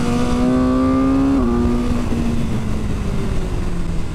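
Engine of a 2022 BMW S1000R naked motorcycle winding up hard and loud, close by, with rising harmonic tones that drop briefly at a gear shift before continuing to climb, steady and without talk.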